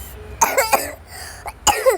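Several harsh coughs close to the mic, a pair near the start, a single one in the middle and another pair at the end, with brief quiet gaps between.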